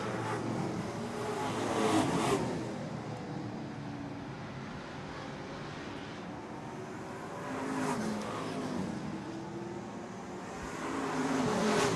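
Pro stock race cars on an oval track at a championship night roar past in waves, engine noise swelling and fading as the pack runs through the corners, heard from a distance with a constant background din.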